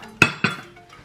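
Seasonings for meatballs get mixed in a bowl, two quick clinks of a utensil against the dish in close succession, near and crisp, then quiet.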